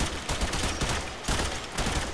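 The Prisma Gorgon machine gun in the Warframe video game firing sustained rapid bursts, a dense, loud, continuous rattle of shots with no talking over it.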